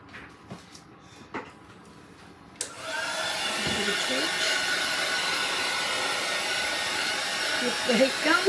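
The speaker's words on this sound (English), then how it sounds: "But I think the heat gun will remove those bubbles." A heat gun blows hot air over poured resin in a bowl mould to pop surface bubbles, starting abruptly after a few seconds of quiet and then holding as a steady, loud airy roar that continues to the end.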